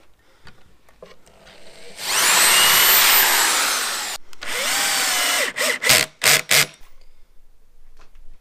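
A power drill bores a pilot hole into a wooden plank in one sustained, loud whine, then drives a screw into the same board in several shorter bursts, close up with no speech.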